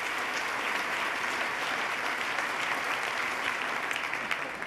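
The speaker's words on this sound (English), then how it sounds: "let's start by giving Pat a big round of applause for coming up and sharing his story" An audience at a State of the State address gives Pat a sustained round of applause, a steady, even wash of many hands clapping throughout, moderately distant and without talk.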